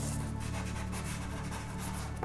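Compressed charcoal and a kneaded eraser rub back and forth across drawing paper during a realistic charcoal portrait, giving a faint, close, continuous scratchy scraping.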